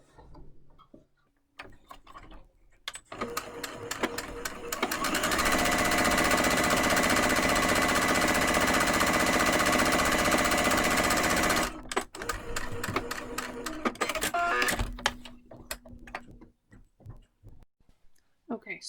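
A Brother SE625 sewing machine hums through a sustained stitching run on a fabric face mask, loud and close, with clicky handling and fabric shuffling before and after the run.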